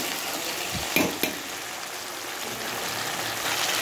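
Fried fish goes into a hot pan of vegetables with eggplant and taro, bringing a couple of brief thuds followed by a continuous close sizzle.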